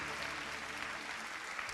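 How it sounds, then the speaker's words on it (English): Steady applause from a large audience at an AI summit event in Taiwan, a dense, even wash of clapping filling the whole moment with no break. "Give yourselves a big round of applause."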